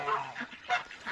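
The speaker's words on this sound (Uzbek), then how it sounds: "qo'lma-qo'ris g'ozlar, diski beginok," Several domestic geese, including white, white-headed and black-headed birds of Russian stock, honk in a noisy farmyard flock, with repeated overlapping calls rising and falling close by and no talk.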